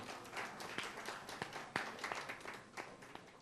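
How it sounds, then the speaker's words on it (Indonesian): Audience applause at an art book launch, a dense spread of many hands clapping at moderate loudness for a few seconds, with no talk over it. "Boleh tepuk tangan."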